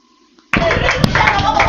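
A church congregation clapping together, a dense burst of hand claps starting suddenly after a quiet moment and continuing steadily and loudly.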